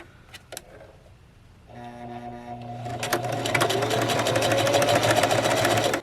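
Sewing machine stitching a pocket seam on a shirt dress, with a few soft clicks before the motor starts and builds into a steady, close whirring run that stops abruptly.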